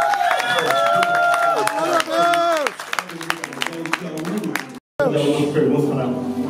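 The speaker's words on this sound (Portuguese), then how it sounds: "Será que você pode aplaudir bem alto?" A church congregation at a baptism bursts into loud applause and cheering near the end, after voices sing and call out over the crowd.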